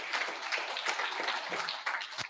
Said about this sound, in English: Big round of applause for the crew.